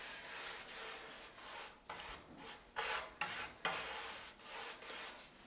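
A brush rubs furniture wax into a wooden surface in steady back-and-forth strokes, a soft scratchy swishing with a few sharper scrubbing bursts, close and moderately loud with no talking.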